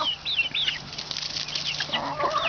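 Ten-week-old Red Star pullet chickens clucking and chirping nearby, a few rising calls over a soft background murmur, no talking.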